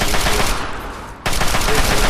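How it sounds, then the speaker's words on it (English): Rapid bursts of automatic gunfire aimed at the player in Fallout 3, loud and dense, with a short lull partway through before the shooting resumes. "Where am I getting shot from?"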